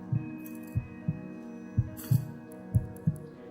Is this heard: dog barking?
no